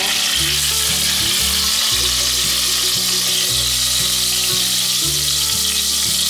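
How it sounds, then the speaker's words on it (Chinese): Bitter gourd pan-fries in hot oil with a steady, loud sizzle and crackle running throughout, no voices over it. "苦瓜已经煎成像这样表面有焦黄色了"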